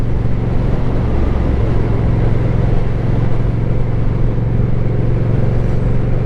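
A Honda Rebel DCT motorcycle rides in sport mode, its engine holding a steady low hum and drone under constant road and wind noise, with no clear gear changes.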